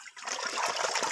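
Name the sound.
water splashing as people bathe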